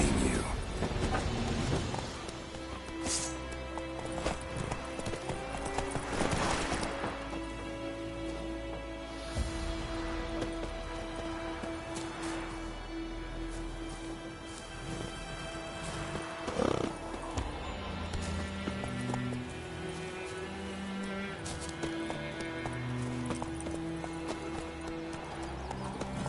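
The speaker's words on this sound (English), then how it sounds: "Whoa there, Roach" The horse Roach trots in The Witcher 3, hooves clip-clopping in an even rhythm through the whole stretch, with a couple of whinnies and neighs breaking in along the way.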